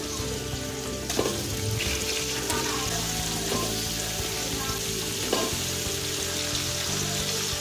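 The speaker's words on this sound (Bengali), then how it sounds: "পেঁয়াজ হালকা নরম হয়ে যাচ্ছে, চিকেনগুলো দিয়ে দেবো।" Chicken and onions fry in a pan, giving a loud, dense, continuous sizzle with occasional stirring clatter throughout.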